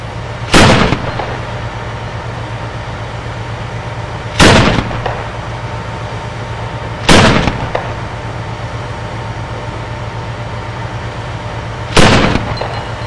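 Self-propelled artillery and an infantry fighting vehicle fire in a Syrian war setting: four sharp, loud blasts at irregular intervals, each standing out above a steady low engine drone.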